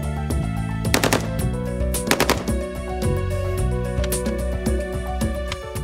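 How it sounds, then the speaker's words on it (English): AK-47 rifle fired in a test, with several rapid bursts of loud gunfire cracking over a sustained musical background, the sharpest shots clustered near the start and middle. "Then the AK-47. It's powerful but slower to bring to bear than the Uzi"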